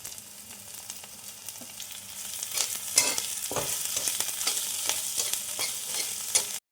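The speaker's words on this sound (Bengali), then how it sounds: "এটা একটু নাড়াচাড়া করে নিব" Green chilli, ginger and garlic stirred and frying in hot oil for a samosa filling: a steady close sizzle with repeated scraping strokes of a spatula against the pan, growing a little louder midway.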